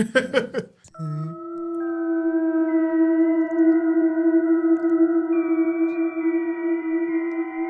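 A dog howls in a long, steady, drawn-out tone after a brief burst of talk and noise, the sustained howl close and fairly loud, rising slightly in pitch as it carries on.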